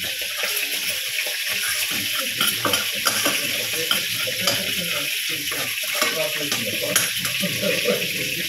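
Chicken frying crisp in a pan for carbonara, a steady broad sizzle with stirring scrapes and occasional splashy water sounds, continuing throughout while speech is faintly present.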